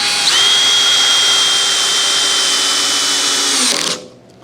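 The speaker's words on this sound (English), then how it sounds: "Okay, we'll see if we can drive these screws." A cordless power drill drives screws into wood during the build of a rolling cart for a Kubota BH92 backhoe attachment, giving one steady, loud motor whine that holds for about four seconds and then stops abruptly.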